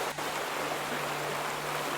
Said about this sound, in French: Il y a beaucoup de bruit. C'est le torrent.